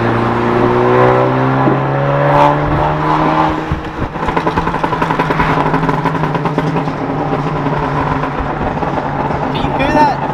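A car with a Phearable stage 1.5 tune and a catless downpipe being driven, its loud engine droning and rising and falling through the gears, close by and continuous, with someone talking over it.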